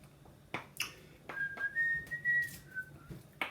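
A person whistles a short wavering tune, quiet and close, with a few soft clicks and taps around it.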